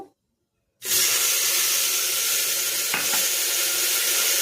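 After a moment of silence, vegetables drop into hot oil with cumin and burst into loud, continuous sizzling that holds steady to the end, with a faint spoon knock partway through.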